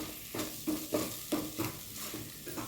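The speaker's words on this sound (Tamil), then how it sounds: "இதோடைய பச்சை வாசம் போக வரைக்கும் கொஞ்சம் கிளறி விடுங்க" Thick masala sizzles and fries in a pan for mutton kulambu while a spatula stirs it in steady scraping strokes, about five or six rhythmic passes, close and moderately loud with a constant hiss underneath.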